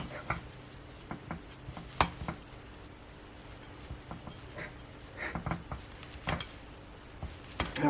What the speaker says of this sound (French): Et après on va faire cuire à la poêle.